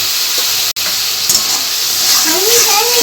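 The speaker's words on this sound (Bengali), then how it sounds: "এবার কেটে রাখা টমেটোগুলো দিয়ে দিচ্ছি" Chopped tomatoes hit a hot pan while a Bengali home-style rohu and pointed gourd curry cooks, and a loud, steady hiss and sizzle fills the clip with no speech.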